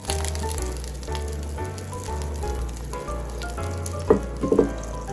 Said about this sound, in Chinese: 镬度加入牛油煮溶， 放埋压碎咗嘅咸蛋黄